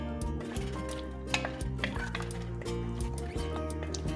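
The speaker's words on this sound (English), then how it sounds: "Stir it up." Cornstarch slurry is stirred into rhubarb crisp filling in a pot, soft wet sloshing and light spoon clicks repeating at a steady pace, faint under a humming background.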